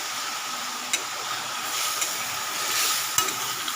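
Sizzling and hissing of curry masala in a hot pan as water is poured in, steady frying noise with a few sharp clinks and stirring scrapes, close and fairly loud.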